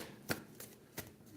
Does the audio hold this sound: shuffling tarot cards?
yes